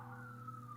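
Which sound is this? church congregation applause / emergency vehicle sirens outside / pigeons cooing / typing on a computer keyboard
emergency vehicle sirens outside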